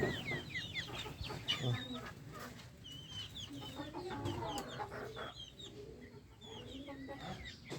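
Large farmyard chickens cluck and chatter continuously in a loose, overlapping chorus at moderate distance, with scattered sharper calls among them.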